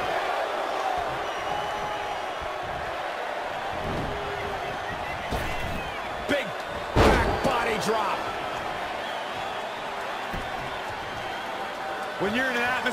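A packed wrestling arena crowd at a WWE Universal Championship match between two wrestlers roars continuously, with loud slams and surges of cheering rising above the steady din while a commentator talks over it.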